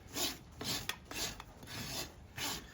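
A farrier rasps a horse's hoof, trimming it back, in several rhythmic rough scraping strokes at close range, each a gritty rasp about half a second long.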